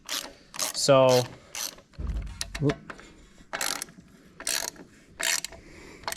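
Ratchet snugging down the manifold bolts on a 1935 Allis Chalmers UC tractor, giving a few short bursts of rapid clicking with tool clanks between them, close up, and a brief word spoken.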